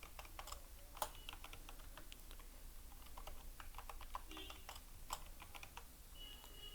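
Soft, quick keystrokes on a computer keyboard while a new password is entered, a steady patter of quiet clicks at close range with no talk.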